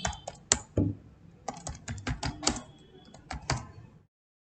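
Keys clacking on a computer keyboard as a name is typed into an MSME/Udyam registration form, a quick irregular run of close, crisp taps with short pauses, then silence at the end.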